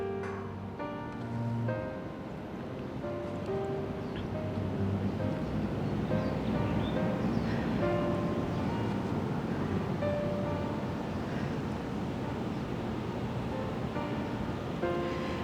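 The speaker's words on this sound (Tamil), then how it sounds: "ஒரு தூர இடத்துல நீர் வந்து தண்ணி வந்து ஓடிக்கொண்டிருக்கிற ஒரு சத்தம் ஒன்று கேட்டுக்கொண்டிருக்கு" A steady wash of distant flowing water hisses in the background at Fort Canning, Singapore, soft and distant, with faint tonal hums drifting over it and no talking.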